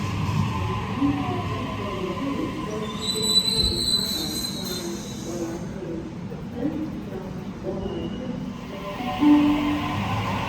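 A train rumbles along the rails with high metallic wheel squeals rising and fading, moderately loud, while people talk quietly nearby.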